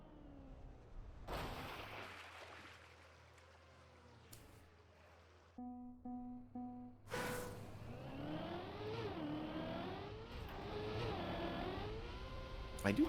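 Car engine in the racing video game Trackmania on the Deep Dip 2 map, a steady whirring drone that rises and falls with revving, briefly cut by a short stuttering tone, continuing under a low background hum.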